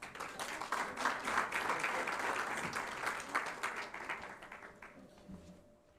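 An audience at a research plan launch event claps steadily in a dense burst of applause that holds for several seconds, then thins out and fades away.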